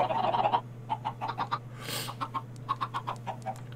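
Chickens in Minecraft cluck in quick short bursts, a busy rhythmic series of clucks after an opening flurry, fairly close and clear with no talking.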